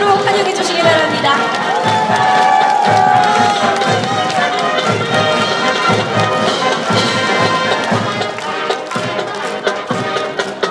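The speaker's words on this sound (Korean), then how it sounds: "여러분 박수로 환영해 주시기 바랍니다." A large outdoor crowd at the Jinhae naval port festival's military band event cheers and shouts as the Air Force band enters, with loud continuous roaring, scattered clapping and children's voices mixed in.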